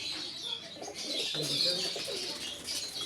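Soft low cooing of pigeons mixed with scattered chirps and a busy, hissy background, fairly close.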